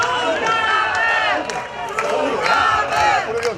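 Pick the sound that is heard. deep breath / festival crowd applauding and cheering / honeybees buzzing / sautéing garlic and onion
festival crowd applauding and cheering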